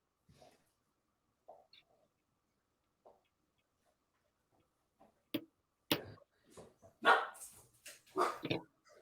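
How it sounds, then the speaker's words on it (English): A dog barks in scattered single barks, faint and spaced apart at first, then in a louder, quicker burst near the end, heard indoors with no talking over it. "It's my dog."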